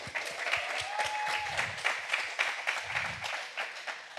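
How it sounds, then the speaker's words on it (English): An audience at a live Skool Games business event bursts into sustained, dense applause, many hands clapping at once in a full, continuous roar that holds steady throughout. "Let's give him a round of applause"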